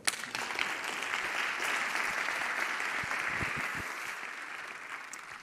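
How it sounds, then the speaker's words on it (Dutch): Steady, dense applause from a lecture audience at the Vrienden van Cobbenhagen Lezing 2022, filling the room evenly from start to finish with no voices over it. "Graag een groot applaus voor Merlijn Twaalfhoven."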